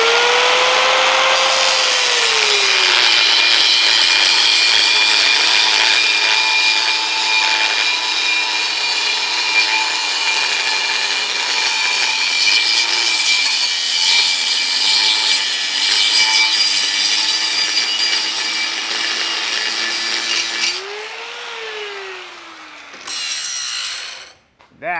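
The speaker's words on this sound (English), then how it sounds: "That's a well-used cutoff wheel." A well-used cutoff wheel grinds through metal in a loud, sustained high-pitched screech with a whining motor tone that dips and rises, running nearly the whole time before spinning down near the end.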